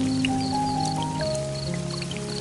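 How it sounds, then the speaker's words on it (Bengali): Raindrops drip steadily through a hole in a tin roof during monsoon rain in an animated scene, a soft, repeating patter over a continuous wet background hum. "মাঝে মাঝে বৃষ্টির ফোঁটা পড়তো টিনের ফুটো দিয়ে।"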